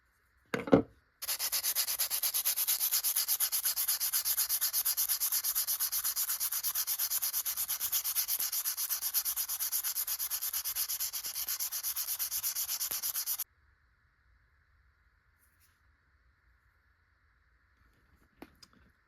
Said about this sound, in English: now let's get the sandpaper out.